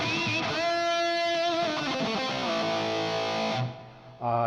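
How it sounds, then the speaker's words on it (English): An electric guitar through an overdrive into a distortion effect on a Nux MG-30 or MG-300 rings out with heavy distortion, sustained chords with buzzing harmonics, then a brief drop before another distorted strum. "you can have a distortion, an overdrive go into a distortion if you want to."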